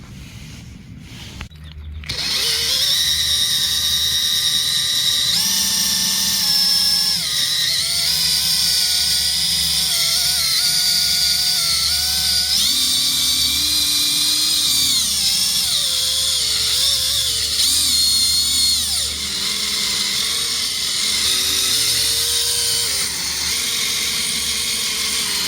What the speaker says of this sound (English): This is my drill set. Got the buffering pad, polish pad.